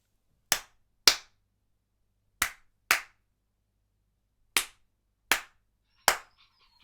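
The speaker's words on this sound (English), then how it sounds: "And clap." Seven sharp, isolated hand claps ring out one at a time in an otherwise quiet room. The gaps between them are irregular, with a pair near the start and single claps spaced farther apart later.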